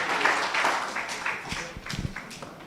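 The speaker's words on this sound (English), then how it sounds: "Please join me in giving our distinguished panelists a warm round of applause." Audience at a university research conference applauds the panelists, a modest, fairly faint patter of clapping that thins and turns sparse toward the end.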